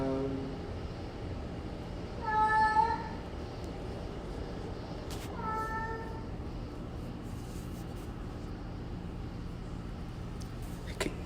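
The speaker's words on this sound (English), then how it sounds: "The cat is upset because she wants to go outside" A house cat meows in frustration because it wants to be let outside. Two short, drawn-out meows rise over a steady low background hum, with no one speaking.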